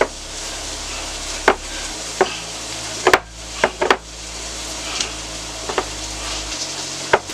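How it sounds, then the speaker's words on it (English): Italian sausage meat and pepper mixture being mixed for burger patties, with soft squelchy thumps and scrapes at irregular intervals over a low steady background hum, close and moderately loud. "We're going to mix these up real quick."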